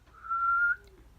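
One person whistles a single clear, sustained note of under a second, then a fainter lower tone follows briefly, with no talk.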